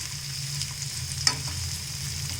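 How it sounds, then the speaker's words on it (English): Carrot and methi leaves frying in a pan, a steady sizzle with a brief stir clatter midway, close and alone. "Just to fry this for 2 minutes."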